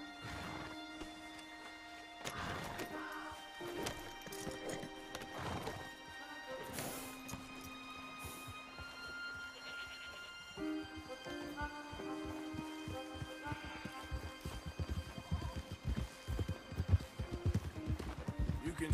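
Horse hooves clip-clop in the video game Red Dead Redemption 2, the irregular taps fairly faint and mixed with game music and other ambient noise, with a few louder knocks toward the end.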